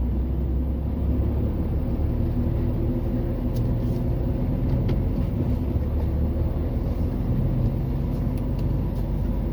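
Heavy trucks idling and rolling slowly at a busy border crossing give a steady, close low rumble that fills the whole stretch, without speech.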